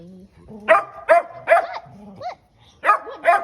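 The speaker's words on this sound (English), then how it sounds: "those are my dogs" Several dogs on a farm bark in quick repeated bursts with yips and a whine between them. The barks are loud and close, with a short pause before the last two.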